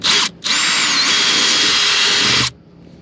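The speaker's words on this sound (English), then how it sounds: "when I re-drill them, I'm never touching the steel plate again with the drill bit" A power drill bores out epoxy-filled holes in a loud, high, steady whine close by, with a short burst, a brief stop, then a longer two-second run before it cuts off.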